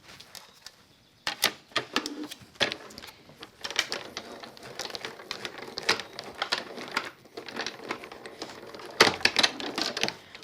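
Die cutting machine running dark gray card through cutting plates, a busy stream of sharp clicks, clacks and mechanical rattles, close and fairly loud, irregular throughout with no talk.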